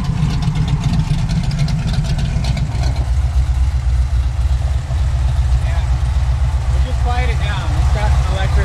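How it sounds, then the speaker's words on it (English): A 1969 Dodge Charger's 440 V8 rumbles at a steady idle, a deep low throb running throughout while people talk over it inside or beside the car. "Maybe we should kill the engine."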